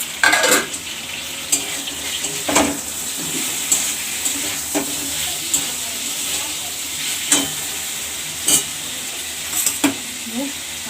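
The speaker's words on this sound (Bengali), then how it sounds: "চিকেনটা ভাজা চলছে আগে একটু ফ্রাই করে নিচ্ছি চিকেনটাকে" Chicken fries in a pan with a loud, constant sizzle and hiss, punctuated every second or two by sharp spatula scrapes and clanks against the pan.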